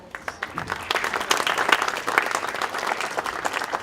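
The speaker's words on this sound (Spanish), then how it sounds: "Recíbanlo con muchas palmas, por favor." Applause from an audience at an academic ethics conference, starting with a few separate claps and swelling into a steady, moderately loud round of clapping.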